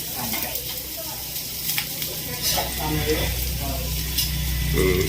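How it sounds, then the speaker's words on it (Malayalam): Onions and spices sauté together in a hot pan for an egg roast, a loud, continuous sizzle with stirring scrapes that swells toward the end, with faint voices in the background. "ഇപ്പം എല്ലാം ഒരുമിച്ചിട്ടാണ് വഴറ്റിയെടുക്കുന്നത്"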